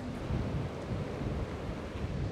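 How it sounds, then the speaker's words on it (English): Distant waves at the Sandals Royal Caribbean resort, a soft, continuous wash of surf mixed with gentle wind rumble, faint and steady with no one talking. "enjoy the beautiful sound of the waves in the distance"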